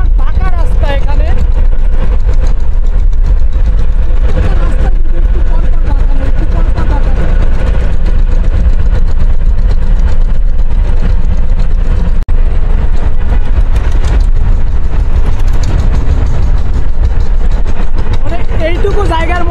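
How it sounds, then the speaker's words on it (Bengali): A car pulls away on a paved road, its engine a loud, continuous rumble under steady road noise for the whole stretch, with someone talking over it throughout. "আমাদের গাড়িটা কিন্তু এখন ছেড়ে দিয়েছে"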